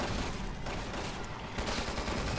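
Rapid gunfire in the zombie shooter Resident Evil 6, a dense burst of shots crackling steadily with a brief lull and then renewed firing, loud and close, with no talking over it.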